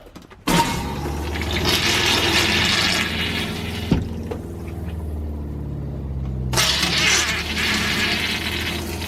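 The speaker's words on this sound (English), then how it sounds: "Now we're going to do the commode." A Forest River Geo Pro RV toilet flushes with a loud rushing of water over a low rumble, briefly stops, then flushes again with a second surge of water.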